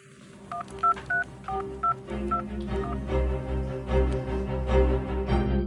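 A telephone number is dialed, with about ten short, evenly paced touch-tone beeps ringing out clearly over low background music that swells afterward.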